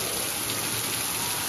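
Heavy rain pours down continuously, a loud, dense, close wash of hiss with no breaks or voices.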